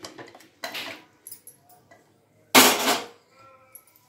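A dal masher works through boiled bottle gourd pieces in a vessel, producing a few scattered clinks and two louder bursts of metallic clatter separated by quiet gaps.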